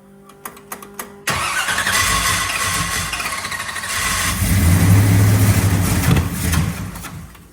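A struggling engine is cranked and catches after a few ticking clicks, then runs loudly and roughly near at hand, the throttle pumped so the revs swell and waver to keep it from dying.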